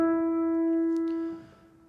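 One sustained higher piano note rings out in a layered production, holding steady before fading over a faint textured background, with no voices.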